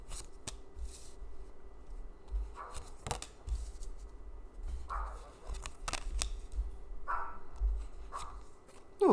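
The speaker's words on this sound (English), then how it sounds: "there's a puppy outside who wants to be barking" A puppy barks outdoors, heard faintly and at a distance through a quiet room. Short yips repeat every few seconds over low background rumble and scattered clicks.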